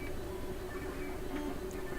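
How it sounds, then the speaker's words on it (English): A 3D printer runs in the background, a steady low mechanical whir with a faint tonal hum and soft ticking, continuous and fairly quiet. "The noise you can hear in the background is my 3D printer"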